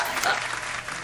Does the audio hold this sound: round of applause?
yes